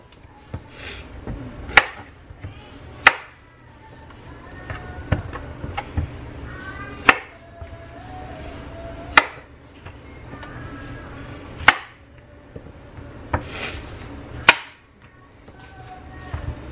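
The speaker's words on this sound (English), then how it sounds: "Chop these pieces off" A knife chopping off the ends of rinsed vegetables on a cutting board during meal prep: sharp, separate chops spaced a second or two apart, with quieter scraping and handling between them and no talking.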